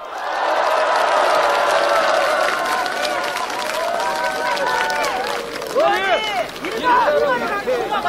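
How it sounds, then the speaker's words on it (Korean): A crowd at a Democratic Party presidential campaign rally in Jeonju roars and cheers, a loud continuous mass of voices and shouts with an amplified speaker talking over it, swelling again toward the end. "전주 집중유세를 여러분의 힘찬 함성으로 시작합니다"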